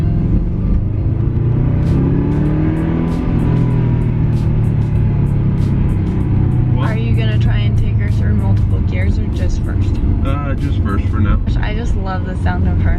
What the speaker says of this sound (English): the sound of her. I know, it's a Subaru.